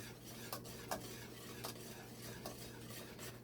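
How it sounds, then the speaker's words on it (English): A whisk stirs peanut and oats porridge in a pot with soft, faint scraping and a few light taps against the metal, set over a quiet steady hum and with no talking. "Okay, let's keep whisking."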